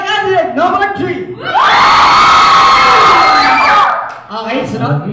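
A crowd votes for a candidate with a loud burst of cheering, whoops and shouts that swells suddenly and holds for about two and a half seconds before dropping away. Voices speak before and after it.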